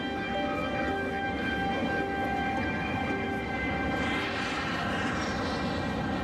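Flight 232, an airliner bound for Chicago, makes a steady engine roar with a droning whine inside the aircraft, continuous and fairly loud with no voices.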